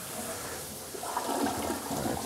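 A toilet flushing during a home interior inspection, a steady rushing gush of water that swells slightly partway through, close and continuous with no talk over it.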